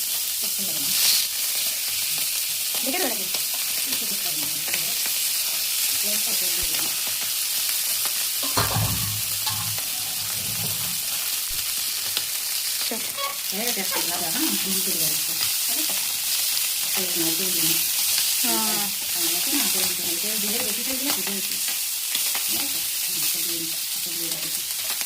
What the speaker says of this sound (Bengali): অল্প তেল দিয়ে ট্যাংরা মাছ ভাজতে হবে।